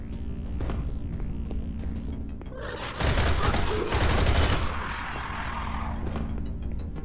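Enemy shooting in the video game Project Warlock 2 in ancient ruins, a loud dense barrage of blasts for about two seconds, rising abruptly over a humming ambient drone.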